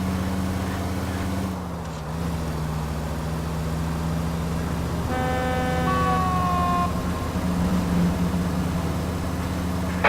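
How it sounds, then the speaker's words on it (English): A police car siren in the video game L.A. Noire rises into a wavering wail partway through, over a steady low engine drone, loud and close with no speech. "There's a siren for a reason"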